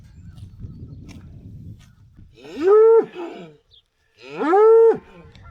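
Cattle on a farm lowing nearby, two loud, drawn-out moos a second apart, each rising and falling, over faint low rustling.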